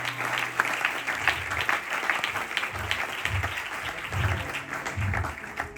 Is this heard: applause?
yes